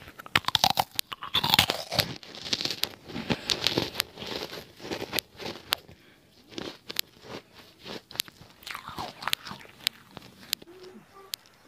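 Close crunching and chewing of crisp pink meringue cookies, with dense irregular crackly bites and smacking mouth sounds that ease into softer, sparser chewing over a quiet background.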